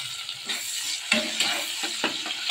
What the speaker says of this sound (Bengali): পেঁয়াজ কুচি, পেঁয়াজটাকে অল্প অল্প করে ভেজে নিয়ে তার মধ্যে টমেটোটা দিয়ে দেবো।